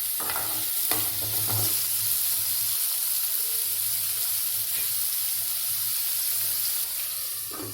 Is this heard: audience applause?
no